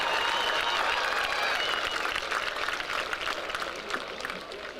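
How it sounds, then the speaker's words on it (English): A large crowd gives steady applause to the Pride of Louisville Marching Band after an award at a football game, dense clapping holding loud for several seconds. "Let's have a big round of applause"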